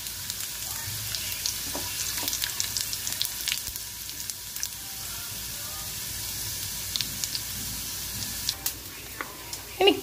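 Cashew nuts fry in oil in a pan at close range, giving a constant sizzling hiss dotted with sharp pops and crackles and a few louder spatters near the end.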